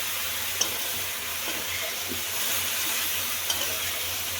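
Cauliflower and broccoli fry in a nearly dry pan with only a drop of oil, giving a soft, steady sizzle and hiss, fairly quiet, with a few faint clinks from stirring.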